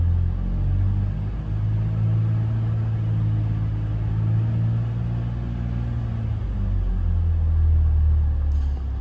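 A BMW X5 E53 with the M54 engine holds a steady idle-to-2000 rpm drone, a smooth low hum with no rattle or foreign noise, constant and close throughout.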